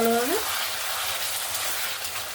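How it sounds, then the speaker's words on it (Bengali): Potato and cauliflower fry with spices in a pan as they are stirred, a dense, loud, continuous sizzle close up, with a brief voice at the very start. "আবারও একবার নাড়াচাড়া করে দিলাম"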